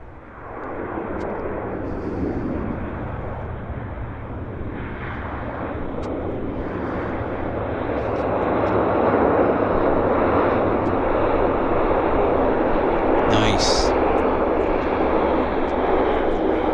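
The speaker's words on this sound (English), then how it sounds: "We've got another Q400 landing" A Bombardier Q400 turboprop airliner lands at Vancouver airport, a broad, steady engine roar rising slightly partway through, heard from a distance outdoors with no talking.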